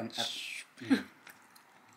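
Close, soft chewing of top sirloin steak at a Brazilian steakhouse, with a few moist bites and squishy mouth sounds in short bursts separated by quiet pauses.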